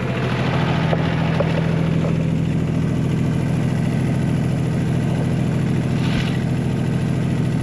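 A John Deere tractor's diesel engine idling steadily after a cold start in winter snow, a continuous close low rumble with an even throb and occasional faint clicks.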